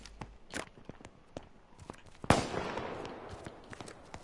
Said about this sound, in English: Someone's shooting already.